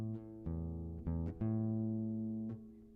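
A guitar string plucked repeatedly and left ringing as its pitch is adjusted, a few close, clear plucks with no talking.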